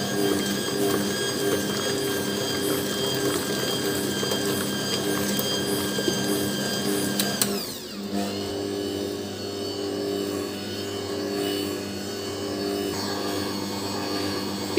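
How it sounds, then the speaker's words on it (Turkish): Electric hand mixer whisking cream for an eclair filling, a steady high motor whine with the beaters rattling in the bowl, changing pitch partway through as the speed shifts. "Şu an iyice pürüzsüz olana kadar çırpacağım."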